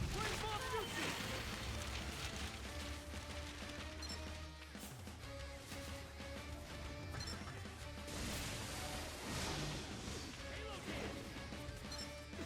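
Fireball jutsu attacks in the Shinobi Striker video game burst out as a dense, continuous roar of crashing fire and impact noise, with game voices shouting over the steady, loud mix throughout.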